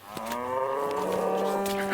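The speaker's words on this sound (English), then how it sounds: "We've found the cows. They're in the other field over there, so some belted Galloways" A belted Galloway cow moos in a Lake District field, one long drawn-out low call that swells and holds, fairly close and clear, with no talking.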